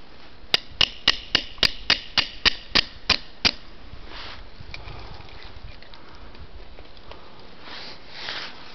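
A maple sap spout being tapped into tubing: about ten sharp, evenly spaced taps in quick succession, close and crisp, followed by quieter shuffling and faint handling noises.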